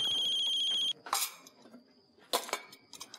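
A ringtone plays loudly for under a second and stops, followed by a few sharp clinks and clatters of handling nearby.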